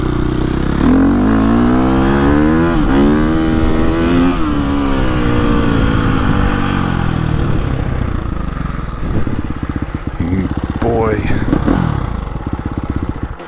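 A 2022 Gas Gas MC350 dirt bike engine revs loud and close, its pitch sweeping up and down through repeated throttle pulls with a raspy, clattering four-stroke tone.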